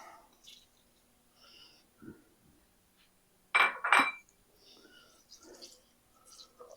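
Carrots tossed into a pot of melted butter at a campsite, heard as a couple of close clattering, clinking hits of vegetables and utensil against metal, with lighter scraping and handling sounds around them.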